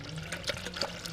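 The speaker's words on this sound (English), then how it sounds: "put some water in it" Water poured through a funnel into the cooling system of a 2002-2009 GMC Envoy or Chevy Trailblazer during a water pump and thermostat job, a soft close splashing and trickling with no talking.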